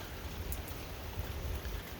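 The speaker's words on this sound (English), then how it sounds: "I don't even know how much is being picked up because of the rain" Outdoor rain patters softly and steadily, a faint, diffuse hiss with occasional heavier drops and no voices.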